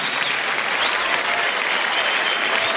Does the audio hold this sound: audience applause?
yes